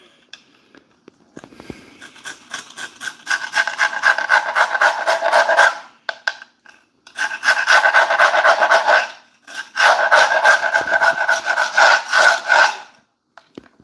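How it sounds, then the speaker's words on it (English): Old tile grout being scraped and raked out to cut a groove about an eighth of an inch deep, heard as three long bursts of steady rasping strokes with short pauses between them, close and fairly loud. "So I'm cleaning the grout and I'm also taking the grout down"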